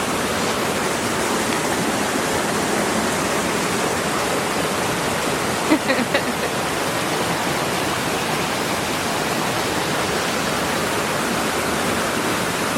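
A mountain stream in the Smoky Mountains flows steadily, a dense, even rush of water heard close and unbroken throughout, with a faint brief knock in the middle and no talking.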